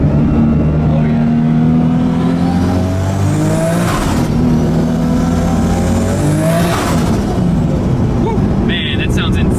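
A rebuilt, turbocharged Toyota Supra with a 1000+ horsepower engine revs hard inside a tunnel, two loud surging pulls rising and echoing around 4 and 7 seconds over a constant close engine roar, with people talking faintly underneath.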